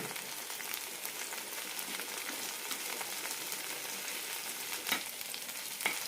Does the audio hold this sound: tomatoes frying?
yes